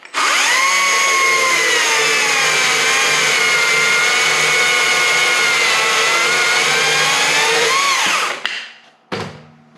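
A Stihl MSA 140 C-B cordless chainsaw cuts through a 4x4 timber post, its loud, steady high whine holding for about eight seconds before winding down, followed by a short blip of the motor.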